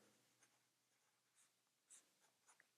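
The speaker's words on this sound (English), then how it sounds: "Now let's do the writing sample using a famous sentence." An ASC Ogiva Pavarotti fountain pen with a 14 karat gold nib scratches faintly across Tomoe River 68 GSM paper in short, quiet strokes, ending with a sharper tap.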